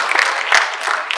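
A short burst of applause from a small audience at a Makassar city council meeting, close, dense clapping for about a second.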